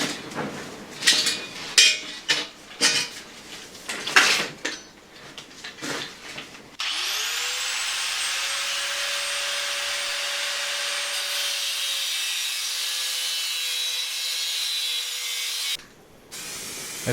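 An angle grinder cuts metal during internal structure repairs on a Talbot camper bonnet. Close clattering and scraping handling noises come first, then the grinder spins up into a loud, steady high whine for about nine seconds before cutting off.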